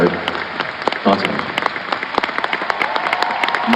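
Concert audience at Hong Kong Coliseum applauding a show, a dense sustained wash of clapping with sharp individual claps standing out, steady and loud throughout.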